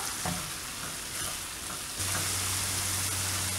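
A vegetable and tomato puree mixture cooking in a pan, a steady close sizzle and bubbling hiss with a faint low hum joining midway.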